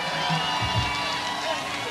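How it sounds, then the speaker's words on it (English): Crowd at a live reggae show cheering and clapping in a steady, dense wash of noise throughout, with no single voice standing out. "I want to give these four guys a big round of applause"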